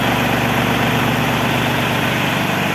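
A Japanese mini tractor engine idles smoothly and steadily, a close, continuous low rumble with an even mechanical throb and no knocks, running alone throughout.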